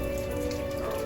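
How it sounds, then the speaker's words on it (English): Steady rain falling outdoors on a warm spring day, a dense continuous patter of drops on surfaces, even and fairly close with no talk. "but it is raining"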